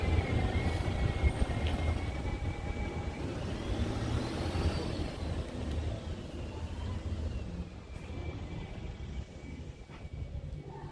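The small electric pier train at Hythe hums and rumbles along steadily at moderate distance, a faint rising whine riding over the rolling noise, with wind in the background.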